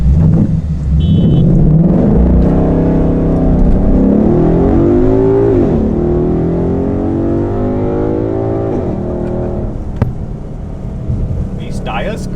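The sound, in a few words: muscle car accelerating hard with tires spinning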